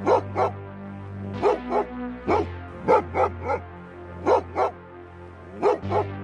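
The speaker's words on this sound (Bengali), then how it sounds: "উঠানে থাকা আসিফের পোষা কুকুরটা ডেকে ওঠে।" A dog barks repeatedly in short bursts, often doubled, fairly close, over a steady low background drone.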